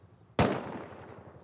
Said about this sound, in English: He's just shooting his teammates.